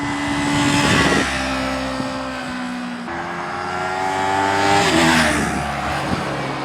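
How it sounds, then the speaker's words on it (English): A stock Kawasaki Ninja 400 motorcycle sweeps past at speed, its engine note climbing as it nears and falling away after, with a second rising surge later in the pass; fairly quiet, no talking. "So you heard how the stock Ninja 400 sounds, and it's a little bit quiet"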